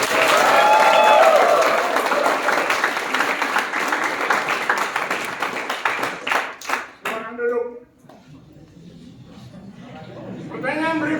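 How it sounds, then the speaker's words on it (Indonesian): A church congregation at a Sunday service in a theology college claps together, loud and dense at first, then thinning into scattered claps and fading, with a voice speaking near the end. "Tepuk tangan lagi."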